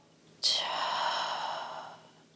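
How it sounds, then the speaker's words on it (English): One deep breath during a yoga flow: a sharp onset followed by a long, smooth, breathy release that gradually tapers off, close and alone against a quiet room. "let's take a breath in and breath out"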